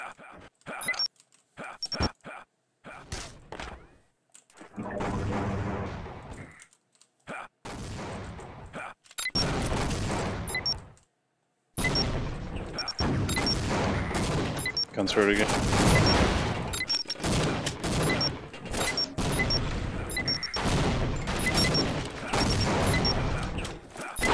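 A nail gun fires in a 4v4 Team Fortress Classic pickup match: rapid bursts of repeated shots with short silent gaps between them, loud and close, joined by other in-game weapon impacts.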